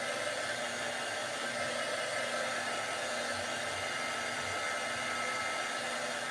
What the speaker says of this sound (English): With the heat tool.